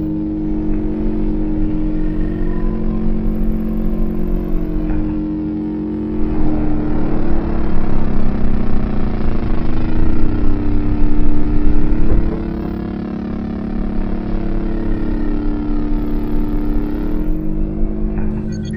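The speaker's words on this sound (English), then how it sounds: "Turn on engine 2." Engine in a sci-fi movie starting up and running, a loud steady droning hum that swells and grows rougher midway, then settles back to an even whirring run with no voices.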